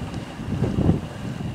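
Strong wind of about 20 knots buffeting the microphone aboard a sailboat running close-hauled under full sail, a continuous low roaring rush that swells briefly in the middle.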